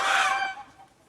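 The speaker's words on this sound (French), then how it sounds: "Et ce bruit? C'est aussi le poulet" Chickens cluck and squawk in a short, bright burst that fades quickly, in an indoor setting where they react to a light being switched on.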